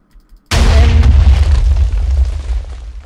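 A TNT cannon goes off in a video game: after a moment of near silence, one loud, sudden boom erupts and rumbles on, slowly fading over the next few seconds.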